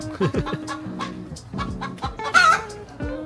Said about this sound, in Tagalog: Mga manok, pati ba naman manok?